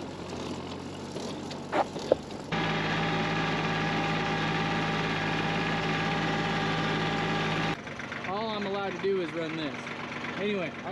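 A 20 horsepower tractor made in Japan between 1987 and 1995 idles with a steady low rumble that runs for most of the stretch. A voice talks over it near the end.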